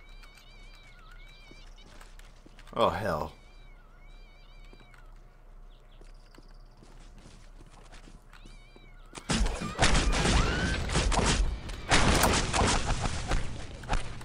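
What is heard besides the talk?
cats meowing in video game Postal 2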